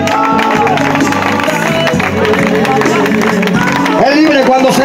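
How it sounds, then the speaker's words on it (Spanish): A church congregation applauds during an evangelical service, a loud sustained wash of clapping and crowd noise with shouting voices and a preacher's speech carrying over it throughout. "denle un aplauso al Señor"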